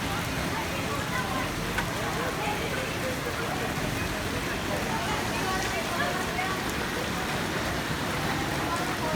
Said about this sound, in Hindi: लाहौर में बहुत तेज़ बारिश शुरू हो गई है